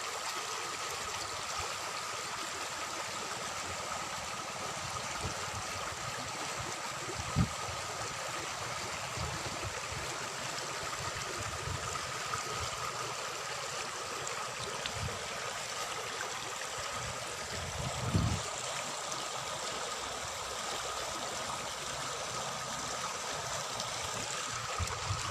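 A stream at a Pakistan tourist spot flows steadily throughout, a continuous broad rush of water with a couple of faint thumps and no talking.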